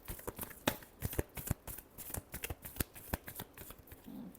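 Tarot cards being shuffled up close, quiet crisp riffling snaps and flicks in an uneven rhythm, with no talking.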